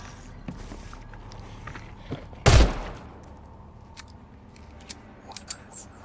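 Pistol gunfire in The Sinking City, a single sharp, loud shot cracking out amid quiet ambient clicks and faint footstep-like taps before and after.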